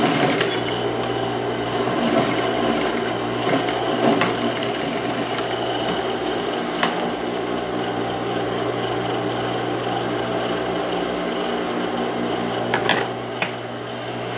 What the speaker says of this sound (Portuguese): para fazer o acabamento com a costura reta aqui na lateral